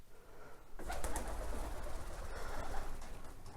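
Pigeons coo inside a dovecote, soft rolling calls overlapping steadily, with a brief rustle as birds move nearby.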